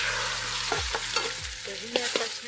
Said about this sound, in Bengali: বেগুনটা হালকা করে ভাজা হয়ে গেছে